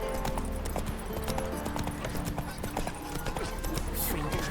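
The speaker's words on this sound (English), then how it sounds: "Run, Roach" A horse gallops in the video game The Witcher 3: Wild Hunt, with fast, steady clip-clop hoofbeats close up throughout, while voices speak over them.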